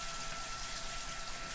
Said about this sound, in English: So a nice hot water rinse to get all that fat off.